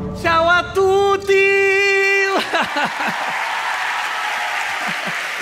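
Applause from an audience breaks out after a brief sung or hummed tone, a dense burst of clapping that fades into scattered claps and crowd murmur over a few seconds.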